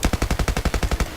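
G53 assault rifle firing full auto in Battlefield Play4Free: a rapid, evenly spaced burst of about eleven loud, punchy shots in just over a second.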